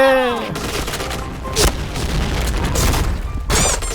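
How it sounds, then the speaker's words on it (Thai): Grenade blasts in the shooter game Point Blank: a loud booming explosion followed by crackling debris and further sharp bursts of gunfire-like blasts, close and heavy, with a brief tonal sweep at the start. "ระเบิดไปดิ"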